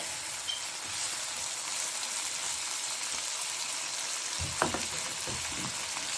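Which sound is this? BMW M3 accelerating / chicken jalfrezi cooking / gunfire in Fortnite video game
chicken jalfrezi cooking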